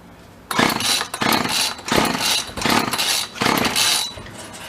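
An old Sears machine's small engine revs under throttle in bursts, five loud rising roars with brief dips between them, close by with no talk.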